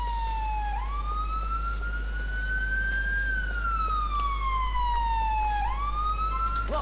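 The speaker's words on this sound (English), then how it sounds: "You'll probably get slightly irritated by the sirens after a certain amount of time." Police car siren from the game GTA 4, a continuous electronic wail sweeping slowly up and down and then swooping sharply back, loud and steady over a low engine hum, with no voices.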